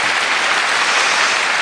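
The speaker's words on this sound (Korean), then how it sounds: "다시 한번 큰 박수 부탁드립니다" A studio audience at a lecture show gives loud, dense applause that fills the whole brief moment evenly, with no voices above it.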